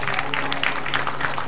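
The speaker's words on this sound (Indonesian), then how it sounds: "Boleh tepuk tangan Ustadz Habibur Rahman?" An audience applauds at a televised Quran memorization program, a short burst of steady clapping with crowd murmur over a low background hum.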